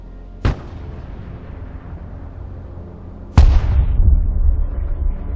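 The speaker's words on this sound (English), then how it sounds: "Artillery available, sir. Providing direct fire." Two heavy artillery blasts boom in the video game Broken Arrow, one shortly after the start and a louder one about three seconds later, followed by a long rumbling roar.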